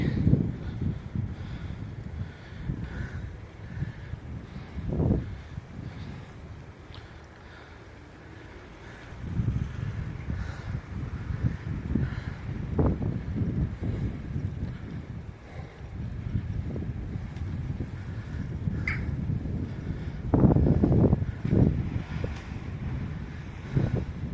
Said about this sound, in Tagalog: Mahangin kasi.